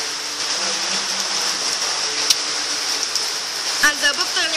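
Steady rain falls in a close, constant hiss throughout, with a voice speaking quietly beneath it and a brief sharper sound near the end.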